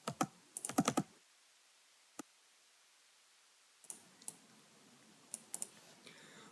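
Someone types on a computer keyboard while filling in a residence permit form, a short quick burst of key clicks, then a lone tap, a pause and a few more scattered keystrokes, quiet and close.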